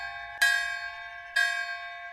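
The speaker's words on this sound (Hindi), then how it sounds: "रात को गांव के मंदिर में घंटियां बजने लगी।" Village temple bells at night, two bright metallic strikes about a second apart, each ringing on with a long, slowly fading tone.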